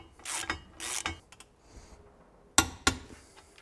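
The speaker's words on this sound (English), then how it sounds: "this being a ball joint, we can torque it now" A new bolt and nut torqued on the rear ball joint of a BMW E46 M3, with sharp ratcheting clicks and rubbing metal bursts in short separate pulses, close and fairly quiet.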